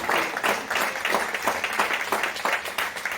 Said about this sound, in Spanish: Denle un aplauso fuerte a Jesucristo en esta hora.